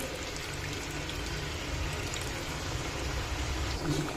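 Water poured into a simmering village-style fish curry with tamarind pulp, a steady rain-like splashing and bubbling that fills the whole stretch at moderate loudness with no talking.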